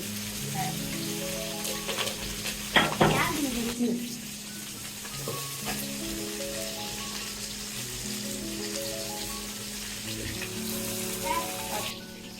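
Potatoes and green chilies sauté in a pan, making a low, soft sizzle with a few scraping stirs and clinks of a utensil partway through, fairly quiet and close.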